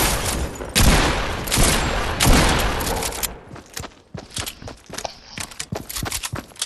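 Shotgun fire in a video game: heavy, booming blasts open the stretch, then give way to a quicker run of shorter, sharp cracks and thuds, all close and loud.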